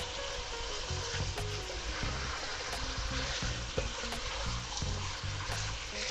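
A soft, continuous sizzle of chicken soup ingredients frying in a pot, with faint scraping of a stirring utensil and low tonal sounds in the background; no one speaks.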